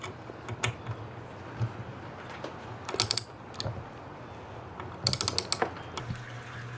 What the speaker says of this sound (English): we can tighten up these 2 bolts underneath that allowed it to adjust back and forth